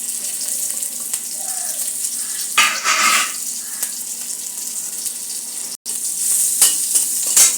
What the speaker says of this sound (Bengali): এবার আমি এটা ফোড়নে কালো জিরা দিয়ে দিচ্ছি, আর কাঁচা লঙ্কা কুচিয়ে দিয়ে দিচ্ছি।